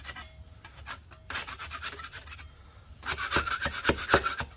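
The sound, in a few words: scraping ridges off dried drywall joint compound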